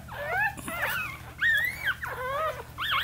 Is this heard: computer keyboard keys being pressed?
no